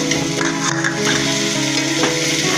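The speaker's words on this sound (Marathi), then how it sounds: "आपण असं मस्त असं हे आपण भरलेलं फ्राय वांग करत आहे" Stuffed brinjals frying in a pan with a dense, continuous sizzle and stirring, loud and close, with no speech.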